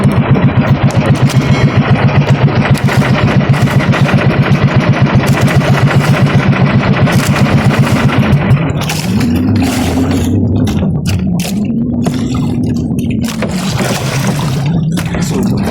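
Many fishing boat engines rumble loudly and steadily nearby, a rapid chugging throb that later shifts into a smoother, wavering drone as the motor changes pace.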